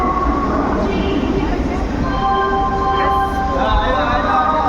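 The Vivek Express rumbles at the covered Bhubaneswar railway station, a steady loud roar of rolling wheels and carriages with a squealing metallic tone rising near the end.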